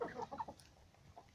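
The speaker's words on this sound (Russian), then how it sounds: "Вот мои старенькие курочки уже тут" Old, plucked-looking hens clucking close by in a chicken coop, a short burst of several soft, choppy calls, then quieter scratchy background.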